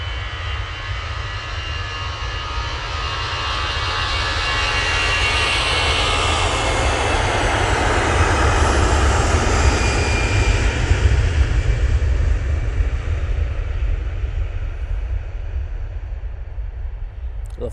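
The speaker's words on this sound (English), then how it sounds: "Qatar 787-9 Dreamliner is now, well, it's pushed, so I'm guessing it's on the taxi." Qatar Boeing 787-9 Dreamliner taxiing at Manchester Airport, a loud continuous jet engine roar that swells gradually and holds steady throughout with no voices.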